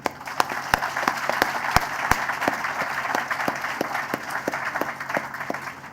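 A university induction ceremony audience applauds the Prime Minister of Jamaica, dense sustained clapping from a large crowd with some sharper nearby claps standing out, loud and continuous with no speech over it.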